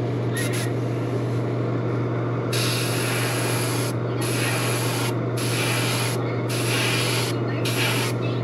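An aerosol spray can hisses in repeated close-up bursts separated by short pauses, over a constant low electrical hum, as paint is sprayed over gold on a shiner shad fishing lure.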